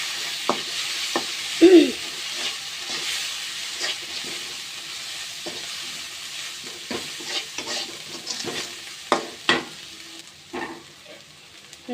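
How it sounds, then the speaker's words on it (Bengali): Rui fish and pumpkin frying in a pan with ground cumin, ginger, garlic and salt, a steady close sizzle under scattered scraping and clinking stirs. "সব মশলা দিয়ে দিলাম হালকা মশলায় রান্না করব রুই মাছ দিয়ে কুমড়া"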